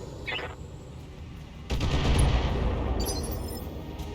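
Salvo of LRM-5 missiles launched in the BattleTech video game, a burst of loud rushing blasts kicking in partway through and rumbling on with a hissing tail, after a faint earlier chirp.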